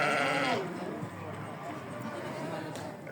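Sheep at a livestock market give a loud, close bleat at the start, followed by quieter crowd bustle and talking in the background.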